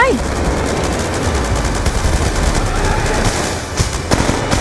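Dense, loud gunfire from Call of Duty Black Ops 2, with continuous automatic bursts and sharp shots running throughout, a few louder cracks near the end, and a voice briefly audible beneath.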